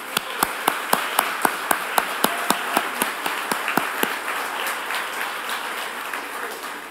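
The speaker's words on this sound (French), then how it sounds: "Une bonne main d'applaudissements pour ces finalistes." An audience at the Uashteshiu 2024 entrepreneurship ceremony applauds the category finalists. Crisp, evenly spaced claps stand out over a broad wash of crowd clapping, and the rhythmic beat fades after a few seconds.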